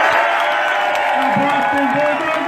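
Rally crowd in Massachusetts applauding and cheering for a speaker, a dense, steady wall of clapping with whoops and voices mixed in, loud and close throughout.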